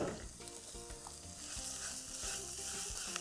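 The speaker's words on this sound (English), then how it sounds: "So we're going to saute this for 2 to 3 minutes, stirring almost constantly." Long grain brown rice and raisins sautéing in a pan with softened onion, a steady close sizzle with rhythmic scraping stirs throughout, no voices.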